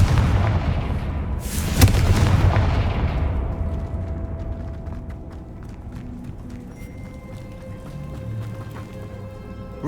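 Confringo blasting spell from Hogwarts Legacy on PC: a loud, booming explosion with a sharp crack near the start, followed by a long rumbling decay and scattered debris crackles.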